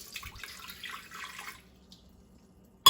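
Filtered water pours steadily into a blender for about a second and a half, then stops, leaving near silence before a sharp knock at the end.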